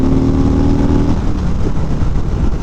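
A 2018 Harley-Davidson Road King Special touring motorcycle opens up under hard acceleration, its loud steady engine drone rising in pitch for about a second before settling into a sustained roar.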